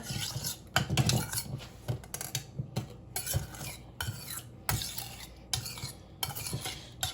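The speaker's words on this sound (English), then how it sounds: "Give this a quick little stir." A quick stir of wet ingredients in a measuring cup for homemade pizza dough, with a utensil clinking and scraping repeatedly against the cup in irregular close taps.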